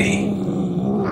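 A cat growls in the video game Murdered: Soul Suspect, a low, steady, rumbling snarl held for just over a second, close and fairly loud with no other sounds over it.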